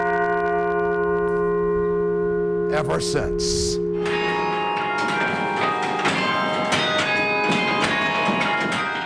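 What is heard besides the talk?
carillon church bells of Church of the Covenant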